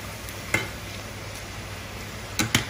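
Homemade French fries bubble in oil heated to 180 degrees, a soft continuous frying hiss with a few sharp knocks of a utensil against the pan, close up and without speech.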